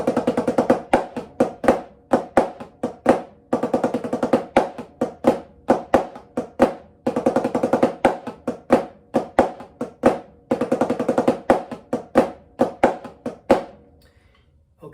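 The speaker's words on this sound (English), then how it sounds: "And then we have the last line, number 6, which is a roll into a Flamacue." Snare drum rudiment practice plays a nine-stroke roll leading into a flamacue, heard as a repeating pattern of crisp close strokes with short buzzy roll bursts and accented hits in steady rhythm, with no voices.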